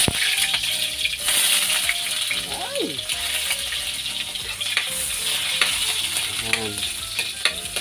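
Onions hit a hot frying pan for escabeche, sending up a bright, steady sizzle with scrapes and small clinks while someone talks over it.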